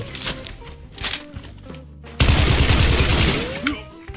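Sustained automatic fire from an M4A1 SOPMOD rifle in the online shooter Special Force 2, a loud rapid stream of shots following a few scattered single rounds and bursts, with in-game clatter.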